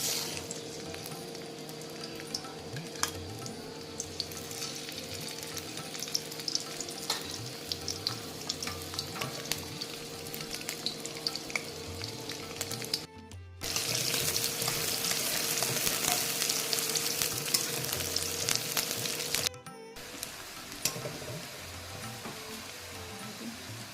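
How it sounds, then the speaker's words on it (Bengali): Onion sizzles steadily in hot oil in a wok, a dense, continuous crackling hiss that swells louder partway through and runs without a break, with no talk. "কড়াইতে তেলটা গরম হয়ে গেছে। এবার প্রথমে আমি পেঁয়াজটা দিচ্ছি।"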